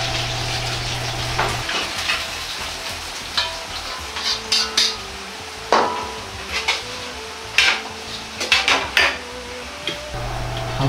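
Fried chicken and eggplant are tossed in a frying pan with an aromatic sauce, giving a soft sizzle broken by repeated sharp clacks and scrapes of utensils against the pan.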